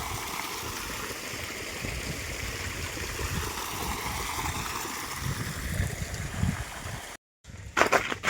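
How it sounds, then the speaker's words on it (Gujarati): Water runs through a groundnut field on a fenced farm, a steady rushing gurgle close by that cuts out briefly before returning with louder splashes. "માંડવીમાં પાણી હાલે"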